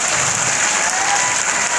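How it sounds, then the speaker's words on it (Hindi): A crowd claps loudly and densely at an evening public event in Bhagalpur, welcoming the singer, a brief unbroken wash of applause. "सबसे पहले उनके नाम पे जोरदार तालियां हो जाए।"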